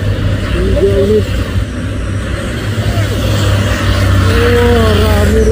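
Tanker trucks racing up the steep Bukit Kodok hill near Sorong, heavy engines droning loud and steady with rising and falling pitch as they strain on the climb, people talking over the roar.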